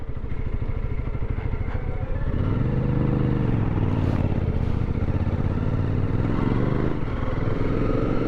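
A motorcycle with a freshly cleaned chain ridden on an Atacama Desert adventure, its close, loud engine rising and dipping in pitch as it shifts through the gears.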